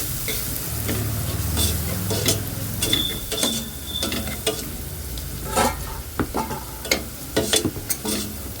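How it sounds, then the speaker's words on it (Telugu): Onions fry in a pan with turmeric and salt, sizzling steadily while a spatula scrapes and clanks against the metal in frequent uneven strokes, close up and without voices. "మనకి ఇలాగ మంచిగా వేగాలండి ఆనియన్."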